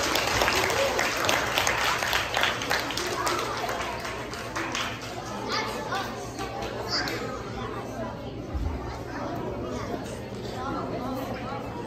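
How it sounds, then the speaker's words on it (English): Applause from an elementary school concert audience welcoming first graders before their song, sustained steady clapping filling the room with scattered chatter and voices throughout. "Let's give them a warm applause."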